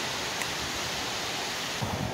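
Wind buffets an outdoor microphone while tools and parts for a GY6 scooter clutch replacement are laid out, a steady broadband rush with a couple of stronger gusts toward the end and nobody talking.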